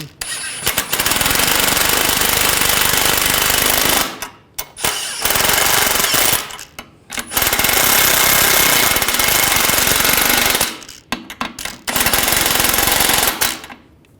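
An impact wrench tightens control arm nuts on a 2009-2017 Volkswagen Tiguan in loud rattling bursts, three long runs of hammering with short pauses between them and a final brief burst, close and dominant.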